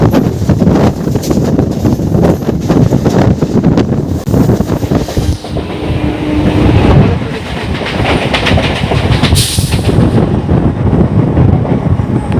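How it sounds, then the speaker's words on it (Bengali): The Samleshwari Express from Jagdalpur to Howrah rushes past close by in a loud, continuous roar of wheels clattering over rail joints, with wind buffeting the microphone throughout. "সামনে দিয়ে আসছে জগদলপুর থেকে হাওড়া সমলেশ্বরী এক্সপ্রেস"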